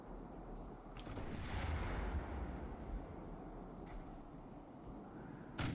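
Naval gunfire from destroyers shelling a battleship in Ultimate Admiral: Dreadnoughts, a dense continuous rumble of shots and blasts with a few sharper cracks standing out, loud and steady throughout with no voices.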